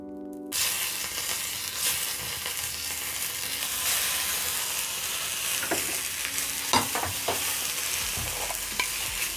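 Cherry tomatoes set face down into a pan of hot oil sizzle and crackle steadily, with a few sharp pops and clinks from the pan standing out over a constant frying hiss.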